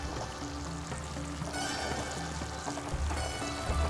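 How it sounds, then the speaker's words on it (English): Mutton fries in oil in a pan with soft, continuous sizzling and light crackling, fairly quiet and steady throughout, heard alone without talk. "as you can see, the mutton is frying"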